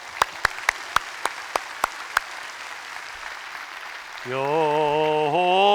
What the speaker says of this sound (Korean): 1년 동안 우리를 지켜주신 우리 하나님 아버지 앞에 영광의 박수를 돌려드리겠습니다